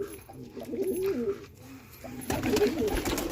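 Pigeons coo repeatedly in a breeding loft, their low throaty calls close by and overlapping in soft rhythmic phrases, growing louder toward the end over faint background noise.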